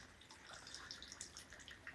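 Heavy morning rain pouring and dripping outdoors, a dense, steady patter and splash without pause, fairly quiet and close.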